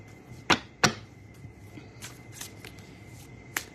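Oracle cards are shuffled for a card pull, two sharp riffling snaps followed by softer scattered card flicks, close up and alone without speech.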